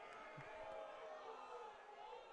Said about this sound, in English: Murmurs of disagreement